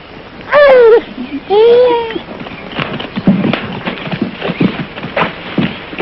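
Horse hooves clip-clop on the ground in a Robin Hood adventure setting, a steady run of close, sharp hoofbeats following two loud voiced calls at the start.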